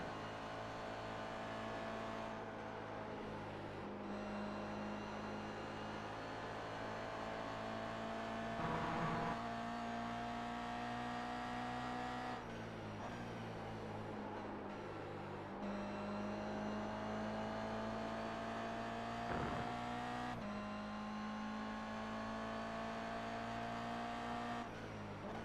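Toyota GR86 race cars battle closely at Watkins Glen, a steady loud drone of engines at high revs, with tones shifting through gear changes and passes as the pack runs together, no voices.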